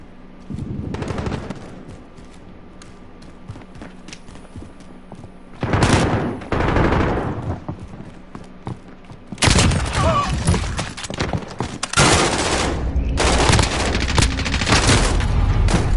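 Automatic fire from a commando AK in Call of Duty, heard as several loud, close bursts: a short one early, a longer burst midway, then sustained rapid firing through the final seconds.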